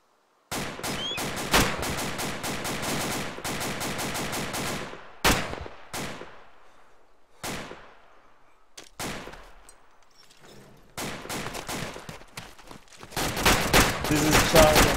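Bursts of rapid automatic gunfire, loud and close, with long sustained strings of shots separated by single cracks and short pauses, some echoing tails, and a heavy final fusillade.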